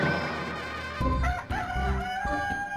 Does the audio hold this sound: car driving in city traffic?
no